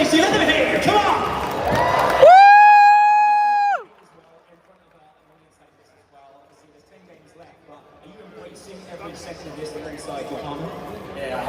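An indoor crowd of fans at the FNCS Grand Finals roars and cheers loudly, breaks off for a long sustained whistle or horn blast, drops to near quiet, then swells back into cheering over an announcer's talk.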